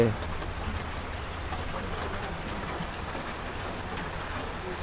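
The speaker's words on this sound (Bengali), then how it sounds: "কিন্তু পুরোপুরি এখনও থামেনি, এখনও বৃষ্টি হচ্ছে" Continuous heavy rain falls in a steady, even hiss, moderately loud, with no other clear sounds standing out.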